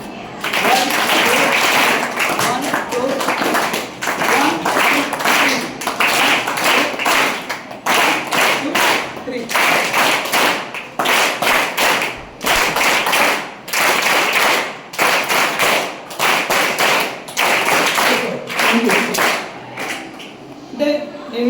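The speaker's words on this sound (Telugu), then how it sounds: "క్లాప్స్ కొట్టండి" Ninth and tenth grade students at a high school awareness session clapping their hands in repeated rhythmic bursts, loud and close, filling a room, with brief pauses between rounds and some voices.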